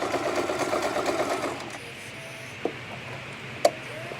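A home sewing machine runs a steady burst of stitching back and forth to lock a seam, then stops, leaving a quiet room with a couple of sharp clicks and snips.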